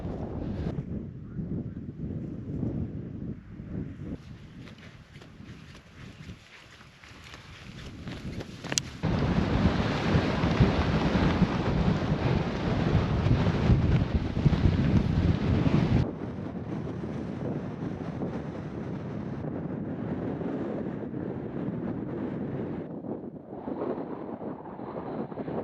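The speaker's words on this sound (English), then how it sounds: "I'm not sure you can hear me above the wind" Strong wind on the Lake District's Northern Fells near High Pike roars and buffets the microphone continuously, swelling to its loudest midway before easing to a steady rush.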